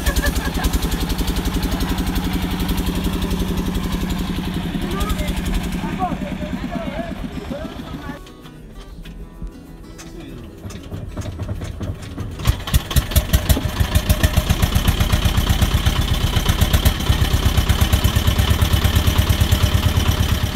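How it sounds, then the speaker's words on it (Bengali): A trawler boat engine on a canal starts up: quiet outdoor ambience with a lull, then a burst of rapid mechanical chugging that settles into a loud, steady close running drone, and speech can be heard over it. "ট্রলারের ইঞ্জিন স্টার্ট করলো।"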